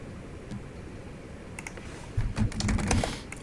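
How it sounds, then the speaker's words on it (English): Quick bursts of keystrokes on a computer keyboard, sparse at first and then a rapid run of clattering taps up close. "I'm just typing in anything for the name and description."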